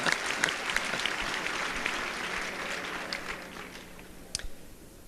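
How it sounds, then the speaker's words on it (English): Audience applauding a small state delegation from Maine at an AIPAC policy conference, with steady, moderately distant clapping and crowd noise filling the hall from start to finish, a few louder claps standing out near the end. "Why don't you stand up for a round of applause?"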